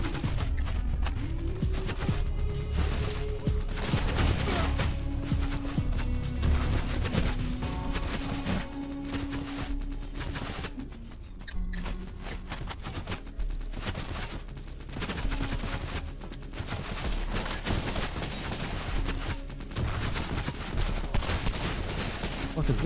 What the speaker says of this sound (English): Finally, a sniper rifle.